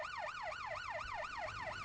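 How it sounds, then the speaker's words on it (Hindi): A police siren wails in a fast, regular rising-and-falling pattern, heard faintly and evenly as if from a distance, ending with a brief thump. "ये तो पुलिस की सायरन की आवाज है ना"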